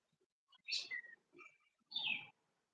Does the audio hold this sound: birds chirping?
yes